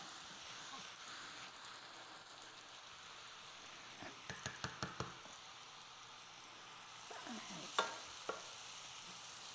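Beef sizzles softly in a pan, a faint steady fry broken by a quick run of light stirring clicks and a couple of louder scrapes, no voices.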